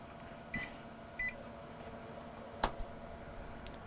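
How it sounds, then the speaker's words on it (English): A drum hard drive hooked to a vintage Tandy computer setup gives a few short, quiet electronic beeps during startup, spaced apart over a low steady hum. "once the drum beeps, we'll fire this puppy up."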